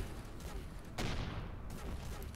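Spaceship cannons in the space game Avorion fire a quick volley, a faint rumbling barrage with one sharper blast in the middle.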